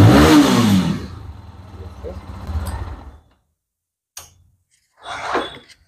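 A GPX Demon motorcycle engine roars loudly as it starts and revs for about a second, then settles to a lower running rumble that cuts off after about three seconds. A short knock and a brief rasping burst follow near the end.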